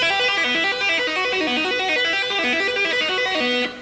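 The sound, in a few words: tapped electric guitar lick on the second string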